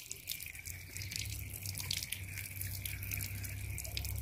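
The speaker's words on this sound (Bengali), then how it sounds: "পেঁপেটা আমি সুন্দর করে ধুইয়া নিতেছি আগে" Tap water runs steadily over a tree-ripened papaya being rinsed by hand at a sink, a continuous close splashing stream with no talking.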